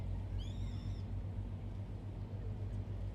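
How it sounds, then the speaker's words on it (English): A few short, bright bird chirps near the start, heard over a steady low rumble of outdoor noise in Tokyo before rain, continuing to the end. "you can hear the birds are chirping a little bit more."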